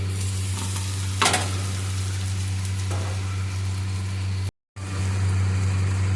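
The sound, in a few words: stir-frying vegetables and egg with onion for egg chow mein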